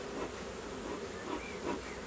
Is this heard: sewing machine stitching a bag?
no